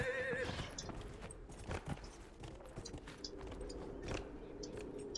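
Horse hooves in Dragon Age Inquisition give a steady, soft clip-clop of footfalls under faint ambient game sound and a few bird-like calls, moderately quiet throughout.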